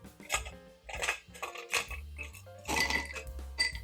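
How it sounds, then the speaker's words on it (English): Ice cubes clink and rattle into a margarita glass, several bright knocks and tumbling clatters in close succession with short pauses between them. "We also want to add some ice to our glass"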